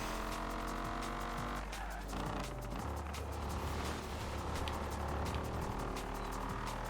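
A car in Forza Horizon 4 drives under a steady engine drone, with tires squealing and skidding partway through; the car sounds loud and continuous, and there's no talk.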